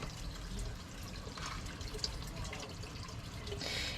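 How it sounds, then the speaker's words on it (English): Water dripping and trickling from a freshly watered plant pot, a soft, steady patter close by with a brief brighter splash near the end. "See? It's dripping quite well."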